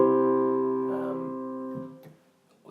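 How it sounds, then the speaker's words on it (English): A piano plays a two-five-one cadence in a major key. Sustained chords ring out and fade over a few seconds, with a faint noise near the end. "2B5-1, which would sound like this."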